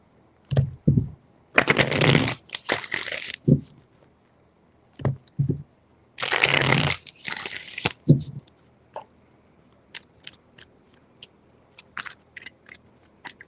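Tarot cards being shuffled in two long riffling bursts, with scattered taps and softer handling sounds between them, close up and without talk.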